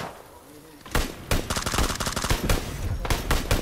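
Rapid, loud gunfire from a sniper rifle in the battle royale game PUBG, with a sharp shot and then dense cracking bursts in quick succession after a brief quiet start.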